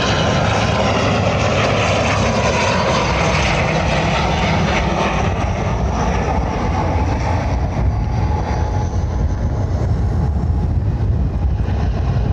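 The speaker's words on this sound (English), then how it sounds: "oh, plane." A passenger airplane at Lanzarote Airport roars steadily and loudly throughout, a broad continuous jet engine rumble with no voices over it.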